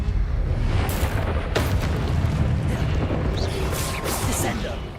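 Confringo blasting spells in Hogwarts Legacy go off as heavy booming explosions, a few broadband bursts near the start and later ones amid continuous rumbling combat noise.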